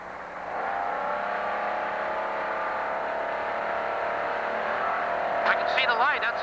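An off-road Pro Truck racing engine at the 2003 Parker 425 desert race drones steadily and fairly loud throughout, a continuous roar with a slight rise near the end, while people talk over it.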